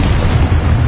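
A Confringo spell blast in Hogwarts Legacy, one loud, short, dense explosive boom with a heavy low rumble.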